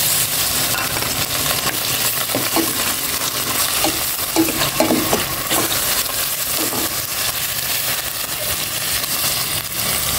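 Pork sautés in hot oil in a pan, a steady loud sizzle over ten seconds with scattered scrapes and clinks from stirring.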